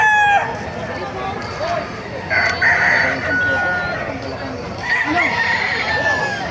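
Roosters crow several times at moderate distance, one call overlapping another, over faint farmyard noise and murmuring voices at a Friday morning poultry market in Bocaue, Bulacan.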